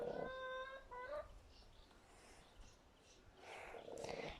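Hens and newly hatched chicks in a coop, short high peeps and clucks up close at the start and again near the end, faint and sparse with quiet rustling between.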